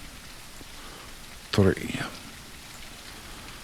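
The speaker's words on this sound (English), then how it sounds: "Oh, it's raining." Rain falls steadily as a soft, even hiss in the survival zombie game SurrounDead, continuing throughout while someone briefly speaks over it.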